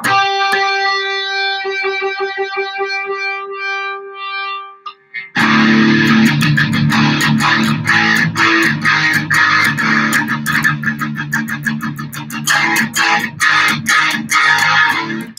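Distorted electric guitar, first ringing tones, then loud crunchy power chords strummed in quick rhythmic bursts, close and prominent.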